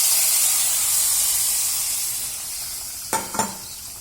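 Liquid poured into a hot pan for Kerala pulinji, a tamarind and ginger dish, gives a steady loud sizzle and hiss throughout, with two short sharp spatters near the end; no voices.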